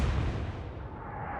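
Rumbling aftermath of naval gunfire explosions in the Atlantic Fleet video game, a dense low roar that holds steady and slowly fades in its upper range over a second and a half.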